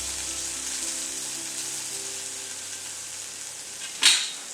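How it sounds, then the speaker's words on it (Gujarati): Spices sautéing in oil in a pan for dry mung dal, a steady close sizzle and fry that runs throughout, with a brief louder hiss near the end. "હવે આપણે આ બધો મસાલો સાતળી લઈશું આ રીતે।"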